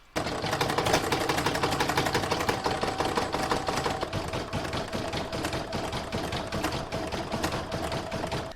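An embroidery machine stitches a round of an in-the-hoop floral topper, a rapid, steady mechanical tapping of the needle running continuously and close up after a brief start.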